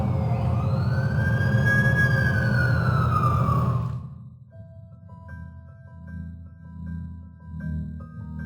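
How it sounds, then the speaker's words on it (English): An ambulance siren wails in The Amazing Spider-Man 2 video game, a loud sweeping tone over a low engine rumble that cuts off abruptly, leaving quieter game ambience with soft tonal beeps. "That's the ambulance I called."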